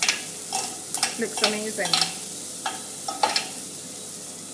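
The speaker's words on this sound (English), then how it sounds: "he's pan frying it, he's sauteing it again. Now, with the butter and with the thyme" Beef sautés in a pan with butter and thyme in a hotel kitchen in Ocho Rios, Jamaica, a steady sizzle broken by scraping stirs, with a brief voice remark over the cooking.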